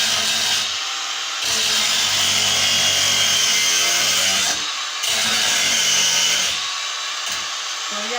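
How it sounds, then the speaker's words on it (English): A hacksaw cuts through wood while making a spear. The loud, close, rasping back-and-forth strokes come in long sustained bursts separated by brief pauses. "then we'll probably just use a"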